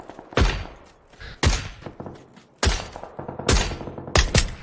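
Bursts of gunfire in the military shooter game Squad, several loud sharp shots and short volleys with booming tails, spaced irregularly and heard without talk.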